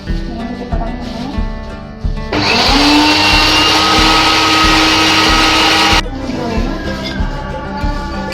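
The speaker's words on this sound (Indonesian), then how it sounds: "Oke, kita coba blender" A blender runs at full speed blending a batch of fish (snakehead mixed with anchovies) for pempek, a loud steady whirring roar lasting several seconds, starting abruptly and cutting off cleanly, with quieter kitchen sounds before and after.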